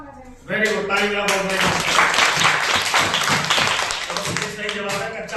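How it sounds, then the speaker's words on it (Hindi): A group of children in a classroom bursts into lively clapping, a busy patter of many hands close by that rises quickly and carries on for several seconds, with voices mixed in. "वेरी गुड, ताली बजाओ।"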